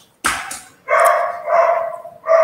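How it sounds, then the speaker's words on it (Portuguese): A dog barks nearby in a loud, clear series of about four barks separated by short pauses. "O barulho está muito alto aqui do cachorro?"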